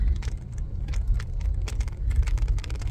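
Cabin sound of a car driving to work, with a steady low road rumble and engine drone punctuated by small rattles and clicks, heard close from inside.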